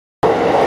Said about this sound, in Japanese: 電車は東京駅に到着しました